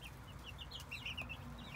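Hens cluck softly in a French garden, a run of short, bright calls repeating over a low, steady background.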